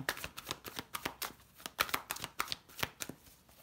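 Tarot cards being shuffled by hand, a quick run of crisp riffling slaps and soft card flutters, close and fairly quiet, with no one talking.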